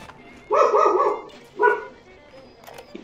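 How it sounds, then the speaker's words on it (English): A pet dog barks indoors, a long bark burst followed by a shorter one, close and fairly loud, with a faint whine at the end. "my dog heard something. He's barking."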